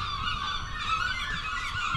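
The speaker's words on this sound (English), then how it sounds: "And the birds are pretty active here." Geese honk in a busy flock around the abbey at Mont-Saint-Michel, France, their calls overlapping continuously and loudly for the whole stretch, with no talking.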